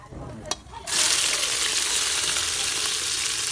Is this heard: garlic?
yes